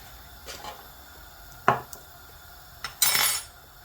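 Spices and masala mixed in a pan with a metal spoon: a few sharp clinks and scrapes against the pan, sparse and close, with quiet gaps between strokes and no voices.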